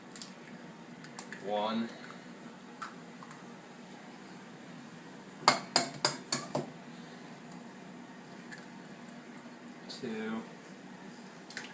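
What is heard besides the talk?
cracking eggs into a bowl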